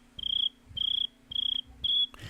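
Crickets chirp in four evenly spaced, rapid pulsing trills, clear and close over a low steady hum, with no voices.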